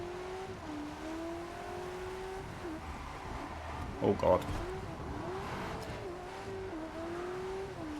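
A Ferrari 488 Pista engine in the racing game Test Drive Unlimited Solar Crown, driven in the rain, revs steadily with pitch climbing and dropping through several gear shifts, and a voice exclaims briefly partway through.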